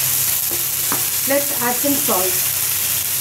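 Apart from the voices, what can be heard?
paneer sizzling while frying in a pan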